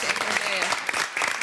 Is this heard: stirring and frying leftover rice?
no